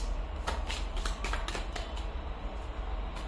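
Tarot cards are shuffled and drawn close by, a run of quick crisp riffling flicks and taps in an irregular rhythm.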